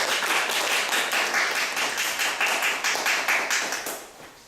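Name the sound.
audience applause welcoming a speaker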